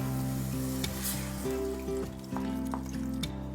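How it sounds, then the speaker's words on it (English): Veg Manchurian stir-frying in a hot pan, a continuous close sizzle with occasional tossing and stirring clinks, over a faint steady background hum, no speech. "Just stir fry it a little"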